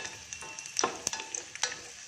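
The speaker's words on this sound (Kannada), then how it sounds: "ತುಪ್ಪ ಕಾದ್ಮೇಲೆ ಇದನ್ನು ತುಪ್ಪದಲ್ಲಿ ಸ್ವಲ್ಪ ದ್ರಾಕ್ಷಿ ಎಲ್ಲ ದಪ್ಪ ಆಗೋ ತನಕ ಬಾಡಿಸ್ಕೊಳ್ತೀನಿ." Almonds, cashews and raisins fry in hot ghee with a soft, continuous sizzle, broken by scattered sharp crackles and pops and a few light stirring scrapes, all fairly quiet and close.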